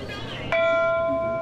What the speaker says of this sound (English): When you do a clean program, someone rings the bell for you.